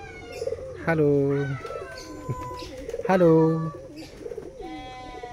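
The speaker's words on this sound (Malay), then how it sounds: "Ini burung kakak tua guys" Parrot at a crocodile park in Kuala Baram, Miri, giving two loud drawn-out calls with softer chatter and squeaks between them, close by, with a person speaking briefly.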